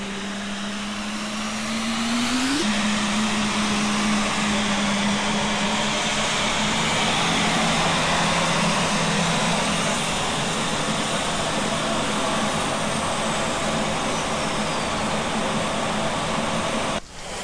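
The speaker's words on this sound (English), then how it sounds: "So now we're going to start our engines." American Airlines Airbus A300 jet engines spooling up inside the cabin: a rising whine that locks into a steady high tone over a loud, continuous roar lasting the whole stretch, with no talk.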